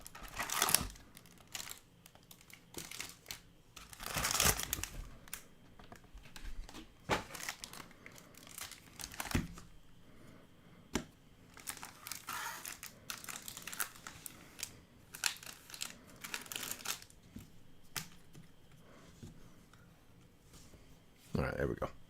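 Sheets of paper being handled and crinkled in bursts of rustling and crumpling, spread irregularly over a long stretch with quiet gaps between.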